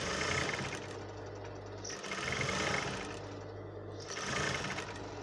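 A sewing machine stitches the pieces of a padded princess-dart bustier, running in steady bursts of rapid mechanical whirring with brief pauses between passes, close and alone.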